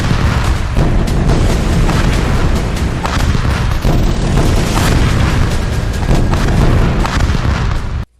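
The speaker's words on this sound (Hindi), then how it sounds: "साथ ही उस अस्पताल पर भी भीषण बमबारी की गई।" Heavy bombing near a hospital in Gaza: a dense, continuous roar of loud booming blasts and rumbling that runs unbroken for about eight seconds, then cuts off abruptly.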